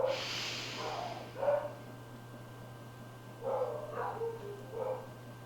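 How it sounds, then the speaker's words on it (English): Several faint dog barks in the distance, coming in short bursts over a steady low hum. "You might hear dogs barking."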